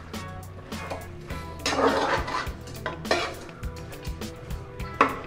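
Chicken biryani mix with salt and lemon is stirred in a pressure cooker, with repeated metallic scrapes and clinks of a spoon against the pot in an uneven rhythm, close and fairly soft.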